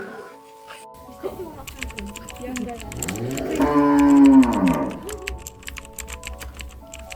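A cow moos loudly on an Indonesian cattle farm, a long rising and falling bellow in the middle, with clicking and tapping sounds and other farm noise around it.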